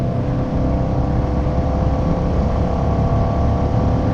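Vehicle engine fitted with a DNA high flow air filter, snorkel and stock air cover, driven through the gears; a steady, loud engine drone with low rumble continues throughout, no talking.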